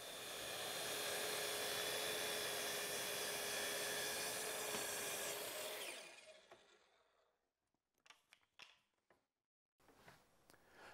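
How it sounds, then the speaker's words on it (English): A Kreg track saw cuts through a walnut slab with a loud, steady high-pitched whine for about six seconds, then spins down and stops, followed by a few faint clicks and handling knocks. "just fire up the saw, plunge it down, and make a smooth, steady pass through your material"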